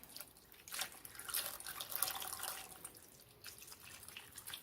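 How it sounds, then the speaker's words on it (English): Beef broth is poured into a pot around a beef roast, a faint trickling and dripping of liquid that swells and fades over a few seconds, with no talking. "Now add 2 cups of beef broth all around."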